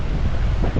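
Strong seaside wind buffets the microphone in a dense, loud low rumble, a brief continuous blast with no voices.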